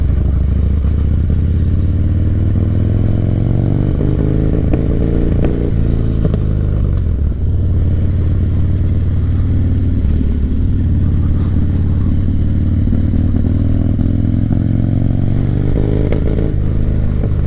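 A 1985 Harley-Davidson FXR motorcycle cruises with a loud, continuous engine rumble close to the microphone, its pitch shifting slightly with throttle changes alongside steady wind and road noise, with no voices.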